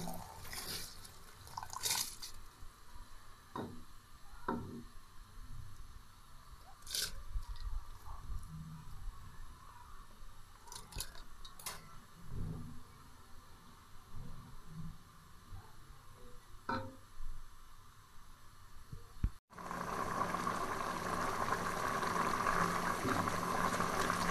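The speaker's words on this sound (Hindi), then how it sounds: "शीरे में बॉयल आ गया और अब इसमें चावल शामिल करेंगे।" Jaggery syrup boils in a pot for sweet rice, a steady bubbling simmer with small pops and drips running throughout, growing louder and denser near the end.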